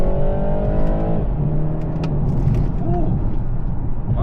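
A BMW G20 330i with a Stage 1 tune drops a gear and accelerates. The engine note climbs in pitch and then settles into a loud close drone, with brief voices inside the cabin.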